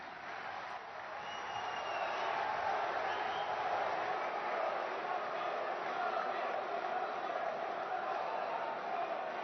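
Sustained crowd applause and cheering at a public event at the AEC Ground welcoming Prime Minister Narendra Modi, a steady, dense wash of clapping that swells after the first couple of seconds and holds at an even level.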